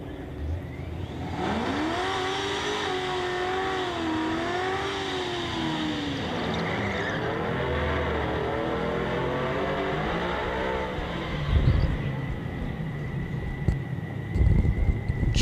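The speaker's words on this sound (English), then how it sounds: "Jennifer Rudisill on the left-hand side of the racetrack in this beautiful Firebird" A drag car engine, a Firebird on the left lane of a dragstrip, revs and accelerates with a rising, sweeping roar that holds steady for several seconds at moderate distance before fading into crowd and ambient noise.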